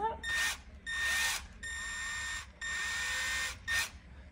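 A handheld power drill running in short bursts, some in reverse, about five whirring spells of a second or so each, separated by brief pauses, close and fairly loud.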